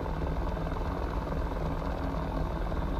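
An AH-6J Little Bird helicopter engine in the DCS flight simulator runs as a steady, loud turbine and rotor drone, unbroken for the whole stretch with no speech.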